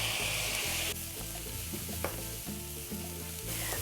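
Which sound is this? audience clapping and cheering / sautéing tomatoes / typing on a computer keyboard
sautéing tomatoes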